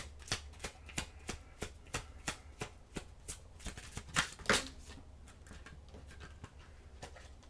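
Oracle cards being shuffled in a tarot-style reading, a steady run of crisp riffling snaps at a regular rhythm, close and fairly quiet, with no talking.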